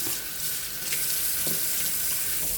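A salmon knife rinsed under a running kitchen tap, a steady close rush of water splashing on the blade with a few brief clatters, no speech.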